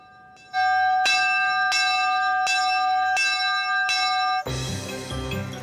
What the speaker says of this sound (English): The dinner bell signals the end of the workday.